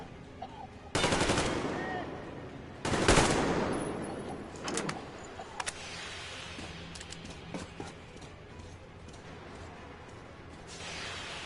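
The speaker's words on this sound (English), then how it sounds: "Ah, it's one of those shotgun pistols." Loud blasts from a shotgun pistol in the video game Metro Exodus, two heavy booming shots a couple of seconds apart followed by scattered smaller cracks and clatter over a low background rumble.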